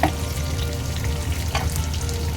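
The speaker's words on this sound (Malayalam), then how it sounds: "വെണ്ടയ്ക്കയും ക്യാപ്സിക്കം വഴന്നു." Okra and capsicum fry in a pan for a Kerala-style vegetable curry, a close, steady crackling sizzle with a few louder pops and stirring scrapes throughout.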